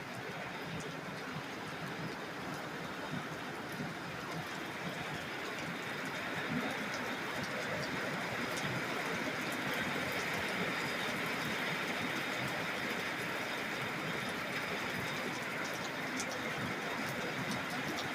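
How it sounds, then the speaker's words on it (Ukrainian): Steady rain hissing continuously, a dense even wash of droplets with no voices. "Дивіться, який в нас дощ."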